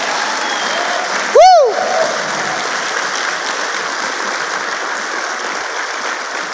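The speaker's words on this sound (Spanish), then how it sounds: "Bríndele un fuerte aplauso a Él." A church congregation applauds loudly and steadily throughout, with a short whistle-like tone rising above the clapping early on.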